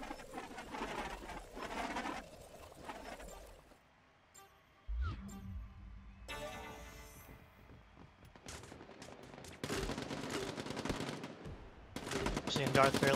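Rapid bursts of SMG fire in a Quake Champions 2v2 tournament match, with several stuttering volleys separated by brief gaps and other game effects.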